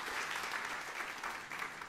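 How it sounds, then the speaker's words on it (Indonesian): A church congregation applauds steadily, a dense, even wash of many hands clapping that holds for the whole stretch at moderate loudness. "Tepuk tangan yang meriah untuk kemuliaan nama Tuhan."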